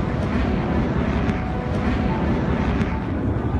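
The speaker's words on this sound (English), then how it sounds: "I think a jet just flew really, really close to us" Military jet flying very close overhead during an attempted coup, a loud, continuous broadband roar that stays strong throughout with wind-like rushing noise.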